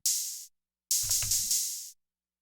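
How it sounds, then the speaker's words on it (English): Hi-hat hits from a Yamaha MR10 drum machine: one bright, hissy open hat, then after a short pause a sustained hat with quick retriggered accents and a low thump underneath, loud and close, with no talk. "The hi-hats I chose for this one are the ones from the Yamaha MR10,"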